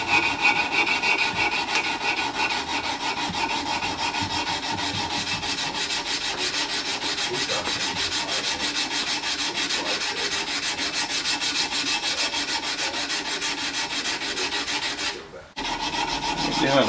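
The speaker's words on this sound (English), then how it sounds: "you're going to use your degree of grits of sandpaper like I said before, I'm starting out with 150" A metal Colt Lightning receiver is hand sanded with 150-grit sandpaper in quick, continuous back-and-forth rasping strokes, close and steady, stopping briefly near the end before resuming.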